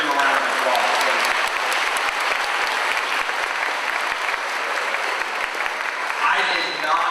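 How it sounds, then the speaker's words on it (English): Sustained applause for a national anthem performer at a middle school Veterans Day assembly, a dense steady clapping crowd filling the hall throughout, loud and continuous. "Give him a round of applause, please."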